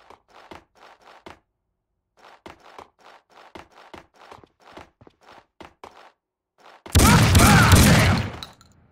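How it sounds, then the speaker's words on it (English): Gunfire in the Xbox shooter Max Payne 2 breaks out as a loud, dense burst near the end, after a long run of irregular sharp clicks and taps that sound like footsteps or distant shots. No one speaks. "I can still hear gunshots."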